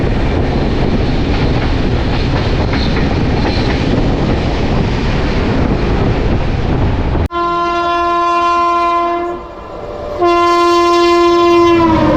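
The Saraighat Express, Howrah to Guwahati, roars past with a loud rumble, then a long, piercing horn blasts twice with a brief gap between.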